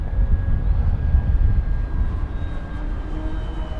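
Propellers on an FMS F7F Tigercat RC model plane windmill at idle with power off, giving a steady airy rushing drone with a faint thin whine overhead.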